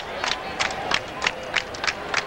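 Baseball crowd in the left field bleachers at Wrigley Field clapping in a steady rhythmic beat, about eight sharp bursts of claps over crowd murmur.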